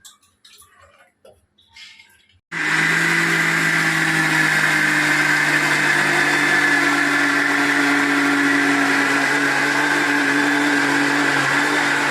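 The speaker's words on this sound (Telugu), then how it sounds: "ఇడ్లీకి పప్పు రుబ్బేసుకుంటే" Quiet handling noises give way to a wet grinder abruptly starting up, churning soaked lentils into idli batter with a loud, steady motor hum and whir that continues unbroken.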